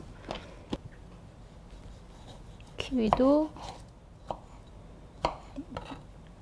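A knife chops fruit such as kiwi into small pieces for an Italian fruit punch, making a few sparse, close taps on a board with a voice briefly in the middle.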